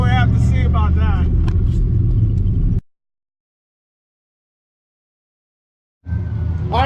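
A turbocharged Fox Body Mustang with a 70mm turbo roars loudly at a drag strip, a deep, heavy engine rumble with rising harmonics that cuts out abruptly, then returns after a few seconds of silence.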